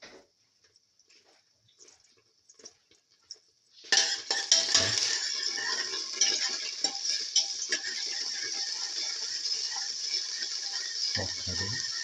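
Potato, scrambled egg and fenugreek leaf pilaf frying in a pan: after a quiet start a loud, steady sizzle kicks in and holds, with faint scattered clinks of utensils throughout and no talk.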